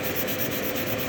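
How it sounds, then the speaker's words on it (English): Hand nail file rubbing steadily across a fingernail during nail shaping, a continuous close, dry rasping texture with faint rhythmic strokes and no talking. "So the reason why you have to file across is to even that out."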